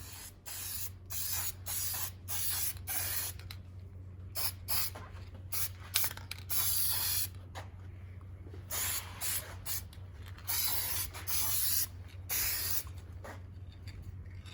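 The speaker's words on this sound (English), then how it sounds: "So now I'll get ready and spray some aluminum paint on this." A series of short and longer hissing bursts from an aerosol can of aluminum paint during an engine rebuild, close and loud, separated by brief pauses.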